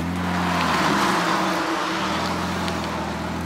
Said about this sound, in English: That's a clean drift car.